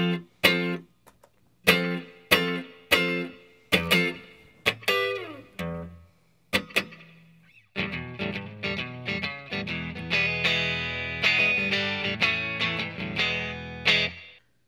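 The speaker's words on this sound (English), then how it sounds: "It goes out into this reverb pedal, which is just super subtle." Electric guitar played through a Line 6 setup into a subtle reverb pedal: separate plucked chords ring out with short gaps, then a denser strummed passage continues, all clear and close with a light tail.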